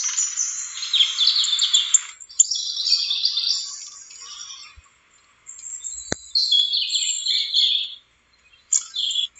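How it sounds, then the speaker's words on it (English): Birds chirp and tweet outdoors in bright, high bursts of song, several overlapping phrases with short silent gaps between them, fairly close and clear with no talking. "You want to hear the birds chirping with me?"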